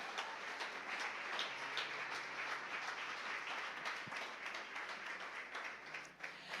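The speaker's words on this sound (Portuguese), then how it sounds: "Aplauda o Senhor." A church congregation claps for the Lord after a prayer: fairly faint, steady applause that continues for several seconds, with a low hum underneath.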